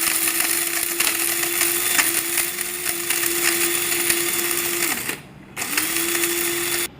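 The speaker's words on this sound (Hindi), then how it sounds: "अब ये साबित मिर्च और सूखे मसाले मिला के पीसेंगे।" An electric grinder pulverizes whole chillies and dry spices for homemade chaat masala with a close, steady, high motor whine. It cuts out briefly near the end, then starts again.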